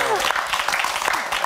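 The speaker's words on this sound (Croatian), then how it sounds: "Veliki aplauz za njega." An audience applauds with a dense, steady patter of clapping. Voices and cheering mix in and overlap the applause throughout.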